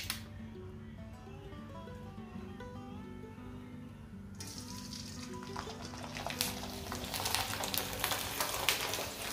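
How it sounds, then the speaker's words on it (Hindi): Sabudana papad frying in hot oil makes a soft sizzle that swells into a louder, crackling bubbling partway through, with faint background music underneath. "तो मम्मी के लिए हमें साबुदाना का पापड़ चढ़ाने जा रहे हैं। तो तेल हमारा गर्म हो चुका है अच्छे से"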